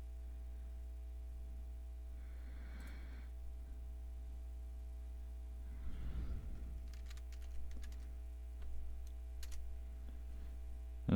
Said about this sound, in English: If I type in WinVer